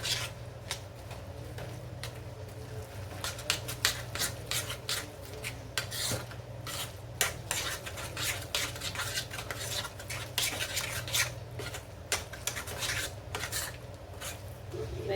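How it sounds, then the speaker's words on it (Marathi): A spoon scrapes and stirs a thick mixed-dal bhaji batter with chopped onion and coriander in a bowl, giving close, steady wet rubbing with frequent sharp clinks against the vessel, and no voices. "हे सर्व आपण मिक्स करून घेऊ"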